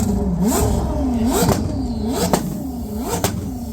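A Koenigsegg CC850 engine revs repeatedly in sharp rising and falling bursts, four distinct blips with a whining pitch, loud and close.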